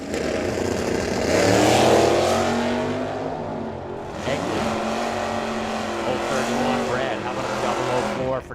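A drag racing wagon with a 413 wedge motor roars down the strip at a motorsports park, a loud engine howl swelling and then fading, while a track announcer talks over it.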